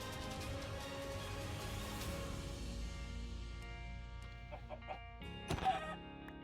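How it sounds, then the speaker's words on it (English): Minecraft chickens clucking in a video game, a couple of short clucks over a steady bed of game music and ambience, with a brief louder burst near the end. "So we got a couple chickens"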